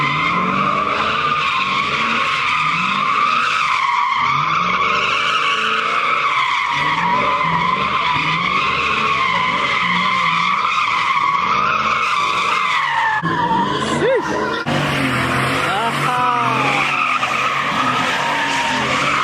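A Mustang skids at a New Year's car meet in a park, its engine revving hard under a long, loud, unbroken tire squeal that shifts pitch over about twenty seconds, with no clear voices.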